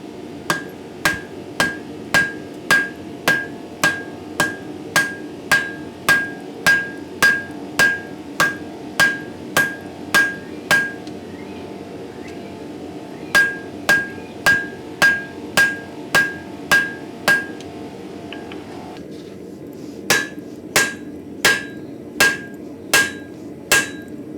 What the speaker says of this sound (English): we're going to do some forge welding. A lot of forge welding